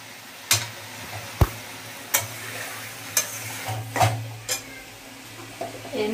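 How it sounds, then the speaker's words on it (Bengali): Fried soybean chunks and shrimp being sautéed together in a pan, with about eight sharp spatula knocks and scrapes spaced across a low steady sizzle and hum. "তো সব দিয়ে মোটামুটি আমি কষিয়ে নেবো"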